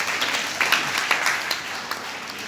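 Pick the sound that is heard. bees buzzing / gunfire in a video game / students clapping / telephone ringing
students clapping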